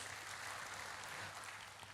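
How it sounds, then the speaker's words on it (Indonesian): A church congregation applauds, a steady wash of clapping heard faint and distant without speech. "tepuk tangan yang paling meriah buat Yesus"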